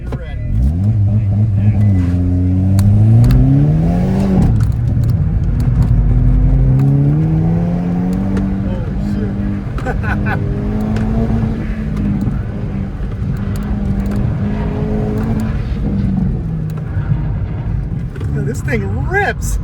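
A Hyundai Kona N accelerates hard around an autocross course, engine note rising and falling through repeated revs and shifts, loud and sustained, with people talking over it.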